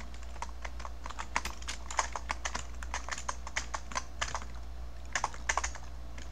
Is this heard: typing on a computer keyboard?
yes